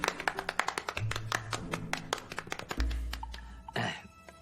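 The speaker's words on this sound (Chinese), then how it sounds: "鼓掌。" Scattered hand claps from a small group, irregular and fairly close, briefly after a call for applause at a police station gathering welcoming a deputy captain, with a low hum and a thud underneath.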